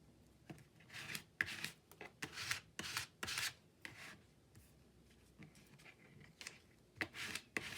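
Paper cutout for a collage journal page rustles and scrapes under scissors in short, quiet bursts of snipping and rubbing, close up, with pauses between strokes and no voices.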